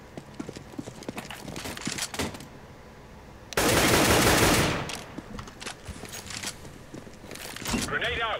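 Gunfire in CS:GO on the Cache map during a competitive ESEA pug, with scattered shots and one dense, loud burst of rapid fire midway, set among game noise and footsteps while a player talks over it.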